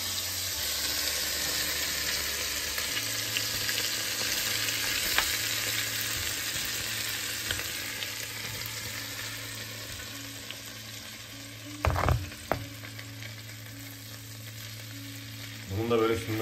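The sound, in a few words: minci cheese sizzling in melted butter in a pan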